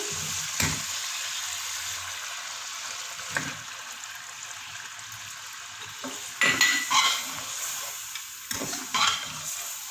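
Mutton with added yogurt frying for karahi, a continuous close sizzle with intermittent clattering of a metal spoon against the pot, louder scraping bursts near the end.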